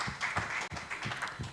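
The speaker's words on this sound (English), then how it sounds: "Please, a round of applause for PG." A church talk-show audience claps after a call to applaud a guest, a brief burst of steady hand claps filling the space at moderate volume with a short break midway.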